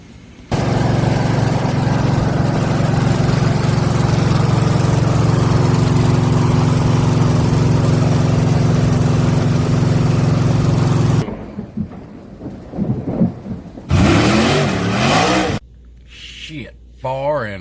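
An old 1966 Chevy C10 pickup's engine runs close by with a loud, steady idling drone for about eleven seconds, then cuts out into quieter, mixed noises.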